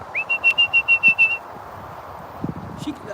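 A sharp, high whistle sounds in a quick run of about eight even pips to call an old dog outdoors, followed by faint rustling.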